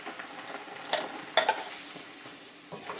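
Chana dal being stirred into a simmering grated coconut mixture in a pan for a traditional Hayagriva sweet, with soft scraping strokes and a couple of sharper spoon clinks against the pan over a low bubbling background.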